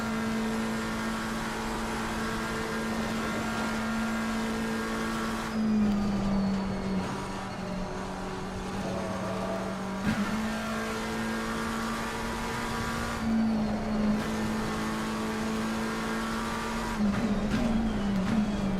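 Race car engine in the sim racing game Assetto Corsa Competizione during a Nordschleife practice session, droning steadily and loud with harmonic whine, pitch dipping and climbing through gear changes and corner exits, with no voices.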